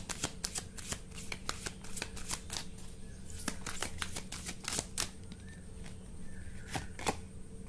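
Tarot cards are shuffled close up, a quick, crisp series of riffling flicks and snaps, fairly quiet, with no talking over them.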